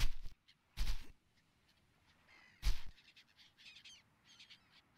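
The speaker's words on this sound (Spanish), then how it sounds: "Cuando amanece siempre empiezan a aparecer las gaviotas." Seagulls call at dawn in the survival video game Stranded Deep, a few loud bursts of squawking separated by quiet gaps, with fainter cries trailing near the end.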